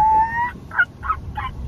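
A voice imitates a rooster crowing: a drawn-out first note followed by three short strained calls, close and clear, sounding more like a turkey's gobble.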